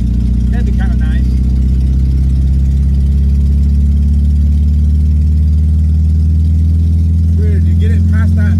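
A revived VW Notchback engine idles steadily with a deep, continuous low rumble, running close and loud under people talking throughout.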